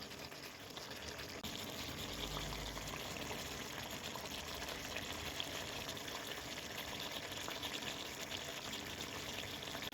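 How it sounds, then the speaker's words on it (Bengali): Chicken braising and frying in a pan gives a steady, dense bubbling sizzle that runs evenly from start to finish, close and fairly quiet, with no talk. "এই আওয়াজটা শুনুন কেমন লাগছে কি লোভ চলে এলো তো এখন মাংসটা কষছি"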